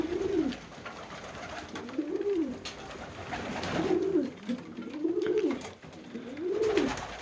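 Pigeons coo in a repeated rolling rhythm, about five low bubbling calls close by, with faint background noise and no talking. The pigeons are Budapest-type (Budapeszty) birds.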